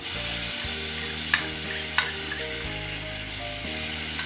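Ground spice paste hitting hot oil in a pan for a light curry, giving a dense continuous sizzle with a couple of sharp spits and a low steady hum beneath, no speech.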